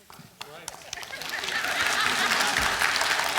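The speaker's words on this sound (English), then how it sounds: "you want to clap? You can." A church congregation breaks into clapping during a sermon, building from scattered claps under the preacher's voice into sustained, fairly loud applause.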